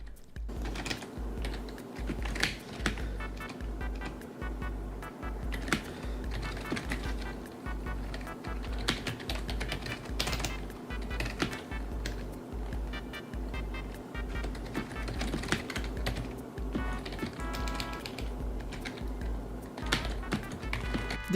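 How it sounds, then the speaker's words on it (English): Steady typing on a HyperX Alloy Core RGB gaming keyboard, soft rapid key presses clattering close up in a continuous stream, with occasional louder taps and no talking. "now it is time to test the sound of the keyboard"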